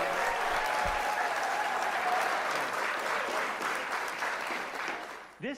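A live studio audience at a channelling programme applauds warmly, dense sustained clapping that fills the room and fades slightly near the end.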